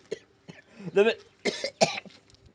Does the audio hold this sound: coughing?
yes